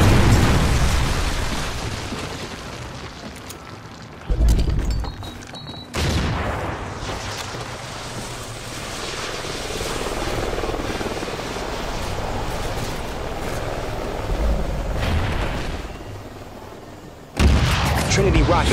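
Trinity rocket strikes in a video game send heavy explosions booming in sharp, loud bursts over a constant rumbling battlefield din, with game voices faintly audible in between.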